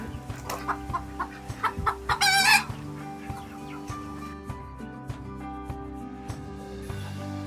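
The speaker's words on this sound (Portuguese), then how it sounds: "Bem-vindos ao Chalé das Galinhas." Chickens in a coop cluck in a quick, uneven series of calls that build to a louder squawking burst, then settle into sparse, quieter clucks over a low steady hum.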